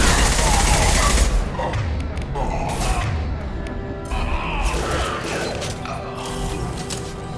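Rapid bursts of gunfire in the Mass Effect 2 video game, loud overlapping shots and impacts with mechanical clatter, a heavy opening volley followed by continuous firing and crashes.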